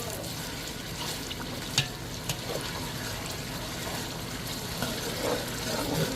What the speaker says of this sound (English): Give this a very good fry.